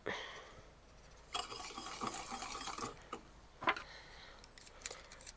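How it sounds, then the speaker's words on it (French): A honey and sugar mixture is stirred in a pot on the heat for homemade throat lozenges, giving soft, intermittent scraping and clinking with a few sharper knocks against the pot, fairly quiet. "Je brasse un peu pour mélanger tout ça."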